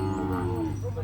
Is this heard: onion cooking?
no